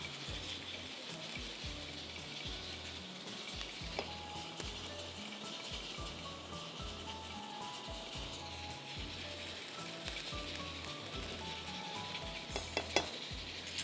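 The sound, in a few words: onions frying in pan for bhuna mutton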